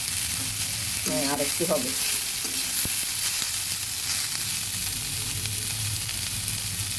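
Bitter gourd and potato frying in a pan, a steady hiss of sizzling oil with a few scraping stirs and knocks while someone speaks briefly near the start.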